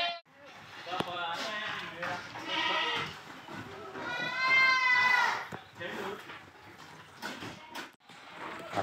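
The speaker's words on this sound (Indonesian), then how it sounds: "Ada kambing kacang juga bro" Boer and kacang goats on a farm bleat loudly and close, with wavering cries overlapping one another amid general barn noise.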